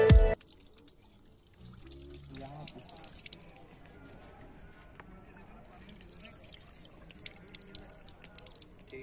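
Water is poured and gulped from a bottle outdoors in a park, soft trickling and dripping sounds at low volume amid quiet background noise, beginning after a brief loud burst.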